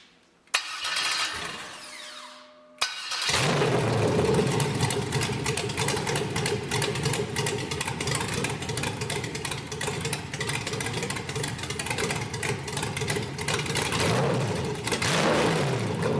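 A 5.3L LS truck engine cranks and catches, then settles into a steady, loud idle under MegaSquirt 2 IAC idle control, running close and continuous with a slightly high idle speed.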